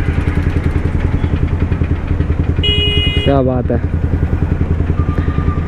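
A loud Yamaha R15 motorcycle engine idles and revs with a heavy, rhythmic pulsing thump close by, continuous throughout while someone speaks over it.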